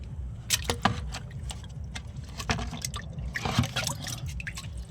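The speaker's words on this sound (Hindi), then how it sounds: "इसको एक बार फुल पानी से भर लूँगा।" Water poured into a container holding an aloe vera gel and insecticide mixture, with irregular drips, splashes and liquid trickling close by, moderately quiet, no talk.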